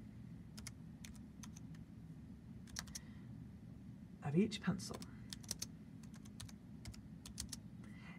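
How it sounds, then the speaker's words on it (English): Sparse keystrokes on a computer keyboard as an equation is typed into an online grade 7 math practice test, scattered clicks over a steady low hum, with a short burst of talk in the middle. "this computer actually recognizes when you're typing in an equation"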